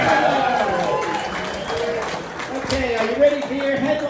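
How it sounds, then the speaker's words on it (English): Comedy club audience clapping for a comedian, a dense patter of applause with some cheering that carries on under a host's talking. "clap it up for Nick"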